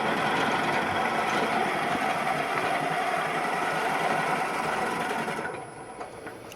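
A drill drives a 1/2 inch bit into a wooden woodturning tool handle, giving a continuous close mechanical whir that holds steady for several seconds before easing off.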